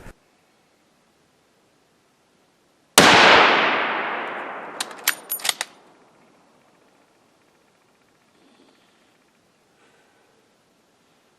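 A single loud rifle shot fired from a prone supported position, a sharp crack with a long decaying roar, followed by a few brief metallic clinks and rattles, then near silence.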